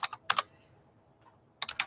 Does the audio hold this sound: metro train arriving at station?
no